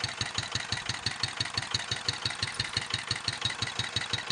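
A revived Yanmar F5C engine, brought back after two years in storage, idles at low throttle with a steady, even knocking rhythm of regular pulses, moderately close and heard alone.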